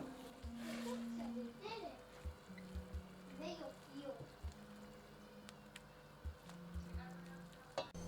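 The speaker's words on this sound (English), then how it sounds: "And then I cooked the mince." Mince sizzles and crackles in a pan at home, a continuous frying hiss with intermittent clinks and stirring taps, while a voice and other talk carry on over it.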